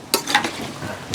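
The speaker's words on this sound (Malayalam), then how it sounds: "ഒന്ന് ഇളക്കുന്നു" Brief spoon scrapes and light swishes in a small cooking pot as salted turmeric water is stirred, soft and close with no talk.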